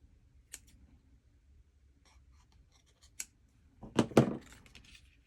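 Scissors cutting card paper while making an arrow fold card, with a few sparse snips and rustles, close and quiet, ending in a short burst of louder crisp cuts.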